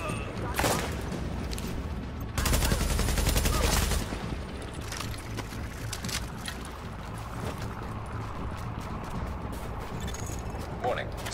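Gunfire crackles through a mission in Tom Clancy's The Division, with a loud sustained burst early on and scattered shots after it, while a voice talks over the action.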